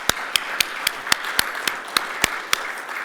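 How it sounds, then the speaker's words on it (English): Slow, evenly spaced claps, about a dozen sharp distinct hits, ring out at a water workshop keynote to welcome the mayor; fairly quiet and sparse rather than a full ovation. "A little round of applause for our mayor."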